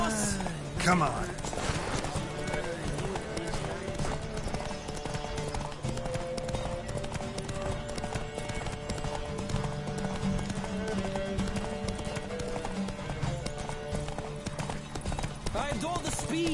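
A horse gallops with rapid rhythmic hoofbeats during a race in the video game The Witcher 3, steady and close throughout, with music and other game sounds layered over it.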